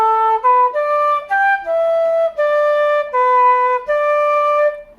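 A traditional tune phrase on flute: a clear, breathy run of about eight sustained notes stepping up and down, played close and alone.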